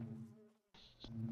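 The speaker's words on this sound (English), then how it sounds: "so here are the Dragonic Bees" Buzzing bees in the modded Minecraft pack All the Mods 9, a group of fifteen Dragonic Bees heard as a steady low droning hum with a brief higher whine partway through, fairly quiet and with no talk.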